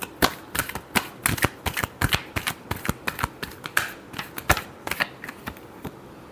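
A deck of tarot cards is shuffled close up, giving a rapid run of crisp flicking and slapping riffles in an uneven rhythm. No voices are heard.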